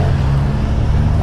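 A Suzuki GSX-R 750 sport motorcycle engine at a dealer demo day, a close, steady, loud low rumble with a constant throaty drone throughout the short moment.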